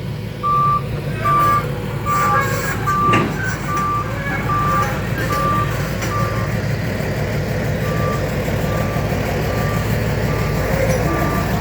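An XCMG EX135 excavator rigged as a log grabber gives off steady, evenly spaced reversing beeps over a continuous diesel engine rumble, fairly loud and close, running through the whole stretch.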